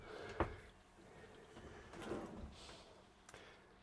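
Drawers in a TrailManor TM16 camper trailer slide and bump shut, a few soft knocks and sliding scrapes spread apart, quiet and close in a small interior.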